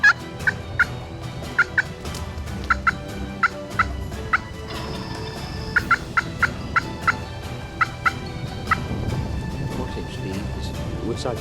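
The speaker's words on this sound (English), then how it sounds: "he gobbles right there, pretty much in gun range" Wild Osceola turkeys gobble repeatedly in open Florida woods during a hunt, many sharp rattling calls at fairly regular intervals, some near and some farther off, over a steady outdoor background.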